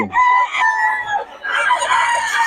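Stag fighting cocks crow at Bocaue, several close, loud calls overlapping one another over about two and a half seconds, with a few clucks mixed in and no talk.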